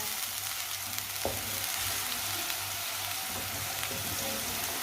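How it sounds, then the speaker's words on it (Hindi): Green garlic frying in a pan over low heat, giving a steady, soft sizzle throughout with a brief clink partway, no voices present. "सब्ज लहसुन को भी थोड़ा सा पका लेंगे 2 मिनट के लिए।"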